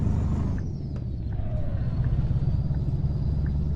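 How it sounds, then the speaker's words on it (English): A heavy truck in Euro Truck Simulator 2 rumbles past with a deep, steady engine drone and a faint high whine over it. "And let that truck go by."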